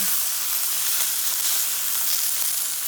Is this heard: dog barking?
no